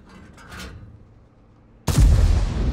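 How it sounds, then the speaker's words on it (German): A 130 mm cannon on an IS-7 heavy tank fires in a game, one sudden loud boom that stays heavy and rumbling after some faint mechanical clatter. "130 mm Kanone haut auch mal daneben."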